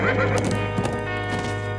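A horse whinnies loudly over a steady musical bed in an animated cartoon scene, with sharp hoof clip-clops sounding beneath, in a dense, busy mix.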